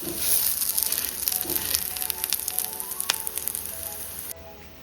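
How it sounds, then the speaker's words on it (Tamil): A ragi and drumstick-leaf adai frying in oil on a pan over medium flame gives a steady, close, crackling sizzle with scattered pops and spits, with no voices; the sizzle drops off abruptly near the end. "இதுலேயும் நாம் நல்லா சுற்றி எண்ணெய் விடலாம்."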